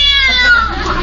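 A cat meows loudly and continuously at close range while being shooed off a car, a drawn-out whining call, with a voice briefly underneath.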